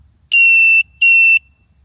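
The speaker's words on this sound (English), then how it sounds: "it beeps whenever you turn your turn signal on" Two electronic beeps from a 1980 Express turn signal relay, each about half a second long with a short gap between them, high and steady tones against a quiet low rumble.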